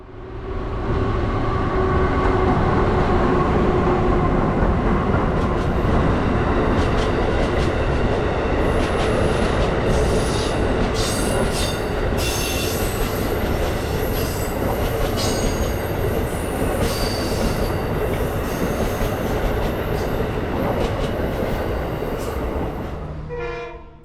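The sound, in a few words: double-headed Amtrak Regional train coasting by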